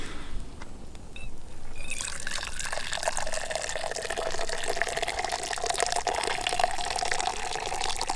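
Coffee is poured outdoors at a bushcraft camp, a steady liquid stream that starts after a short quiet moment and runs evenly for several seconds, close and moderately loud, with no talk.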